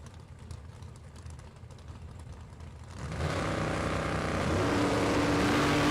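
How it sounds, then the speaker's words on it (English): Drag racing cars, a Chevelle and a Camaro, at a Super Pro bracket event, engines idling low, then surging abruptly into a loud, sustained roar as they launch down the strip. "Keith Gruball, the Chevelle. Billy Farrell in the Camaro."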